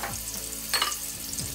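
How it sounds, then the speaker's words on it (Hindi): Ginger, garlic, green chili and chicken fry in hot oil, giving a steady close sizzle with a brief burst of crackle partway through and no voices. "अब हमारा ऑयल गर्म हो जाए तो इसमें हम अदरक लहसुन सब्ज़ मिर्च चिकन ये डाल के इनको हम पकाते हैं।"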